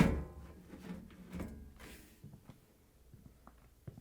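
Metal top panel of a Samsung washing machine being slid back and lifted off, a scraping slide followed by several light clunks and taps of the panel against the cabinet, close and fairly quiet with no talking.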